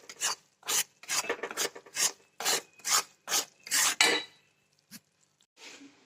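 Semolina roasting in a pan for mango sheera, stirred with a spoon in repeated rhythmic rasping scrapes, close and crisp, about ten strokes followed by a quieter pause and a final softer scrape.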